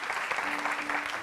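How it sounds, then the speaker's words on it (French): Audience applause at a live show, a steady dense wash of clapping throughout a short stretch, close and even in loudness. "Je vous demande encore de l'applaudir très fort."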